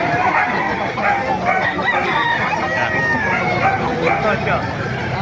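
Roosters at a fighting-chicken farm in Bocaue, Bulacan crow repeatedly, several birds overlapping near and far, with clucking, a dog barking and people talking throughout.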